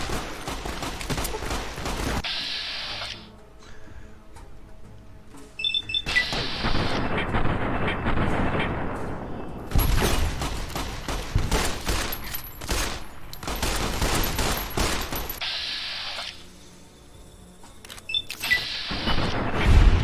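Gunfire in a ghost town gunfight in Fallout: New Vegas. Dense bursts of rapid shots and booms repeat in clusters with short lulls between them, loud and close, with no talk.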